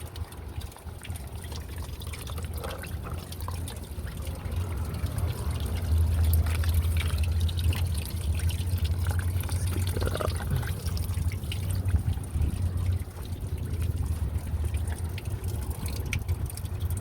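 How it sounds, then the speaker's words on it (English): Fluid draining from a 2002-2012 Jeep Liberty 3.7L V6 during water pump replacement: a steady, close trickle and splash of liquid pouring into a catch container, running continuously with no talk. "We'll let that drain right there."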